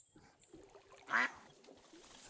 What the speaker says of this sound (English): Let's pet a duck.